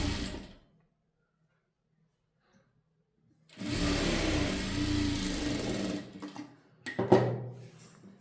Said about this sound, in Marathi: बघा ह्या पद्धतीने आपण शिलाई दिली.